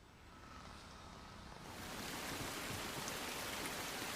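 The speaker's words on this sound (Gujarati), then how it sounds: "ઠેર ઠેર વરસાદી ઝાપટા પણ શરૂ થઈ ગયા છે" Rain showers fall in Ahmedabad, a soft hiss at first that thickens into steadier, louder rain partway through, with no voices.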